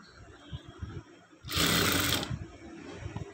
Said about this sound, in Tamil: பாருங்கள் இந்த துணி வச்சு பைப்பிங் மாதிரி நம்ம அடிச்சுக்கலாம்